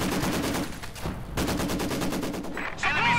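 Maxim machine gun fire in a strategy video game, a dense run of rapid overlapping gunshots close and loud throughout, with a brighter burst near the end.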